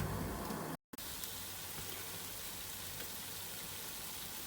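Bread crumbs roasting in a pan on medium heat for halwa give off a faint, steady crackling sizzle, broken by one brief gap near the start, with no voices.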